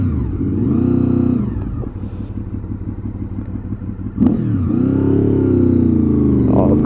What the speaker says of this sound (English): this VFR just sounds so good